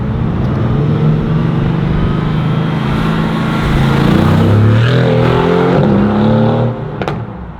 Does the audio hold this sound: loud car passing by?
yes